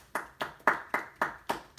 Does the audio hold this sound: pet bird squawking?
no